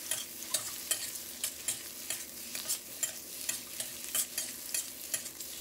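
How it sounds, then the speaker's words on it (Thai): Squid and onion are stir-fried in a pan, with rhythmic scraping spatula strokes over a light, steady sizzle. The strokes repeat about twice a second, close and with no talking. "แล้วก็ตามด้วยปลาหมึกของเรานะครับใส่ลงไปเลยครับแล้วก็ผัดคลุกเคล้าให้เข้ากันครับ"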